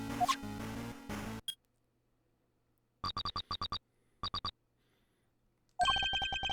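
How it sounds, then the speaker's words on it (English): A cell phone ringing in the video game Ace Attorney Investigations 2: crisp electronic ring tones in quick repeated bursts separated by silences, following a short stretch of music, bright and clear with no talk. "That sound. Mr. Edgeworth, it's Judge Gavel's cell phone."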